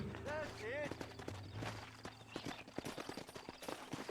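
Horse hooves clip-clop in Red Dead Redemption, a rapid uneven run of hoof strikes that grows busier after a brief neigh-like sound and voices at the start.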